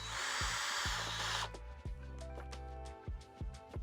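A handheld power drill runs with a small bit attachment to remove bolts from a 2003–2007 GM car radio faceplate, whirring close and loud for over a second, then giving short stop-start bursts and clicks.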